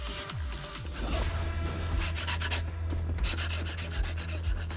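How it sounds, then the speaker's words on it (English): A character pants during a fight in Zenless Zone Zero, with repeated breathy gasps up close over steady game music and effects, with no voices. "Why is he panting?"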